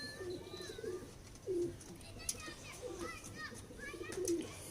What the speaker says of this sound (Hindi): ये ओरिजिनल टैडी जोड़ा मियाँ नज़ीर साहब वाली ब्लड लाइन से, कोने वाला टैडी कबूतर है और साथ में सलारी मादा है